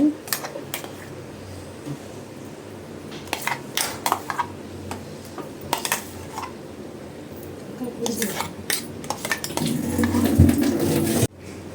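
A spoon clinks and scrapes against a pan while sapota kesari is stirred, with irregular sharp metallic taps spread throughout and a busier clatter near the end.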